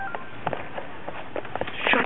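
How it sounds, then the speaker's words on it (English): A phone sounding a series of short electronic beeps and tones, irregularly spaced and fairly close, in a muffled, band-limited recording. "Shut the dang phone off, Chester."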